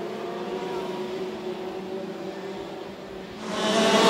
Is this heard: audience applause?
no